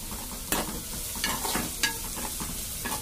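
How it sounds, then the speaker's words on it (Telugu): Chopped onions and green chillies frying in oil in a pan, with a soft sizzle beneath repeated scraping stirs of a spoon at irregular intervals, up close. "అందులో ఉల్లిపాయ, పచ్చిమిర్చి చిన్న చిన్న ముక్కల కింద వేసుకొని వీటిని బాగా ఫ్రై చేసుకోవాలి."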